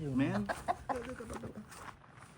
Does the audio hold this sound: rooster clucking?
yes